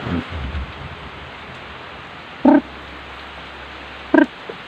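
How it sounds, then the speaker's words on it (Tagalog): Steady, dense heavy rain hisses continuously, with a couple of short animal grunts from pet chickens breaking through. "Grabe ang lakas ng ulan"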